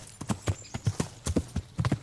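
Horse hooves clip-clopping in the medieval video game Kingdom Come: Deliverance, a steady rhythmic walking gait of sharp hoof strikes, close and clear with no talking.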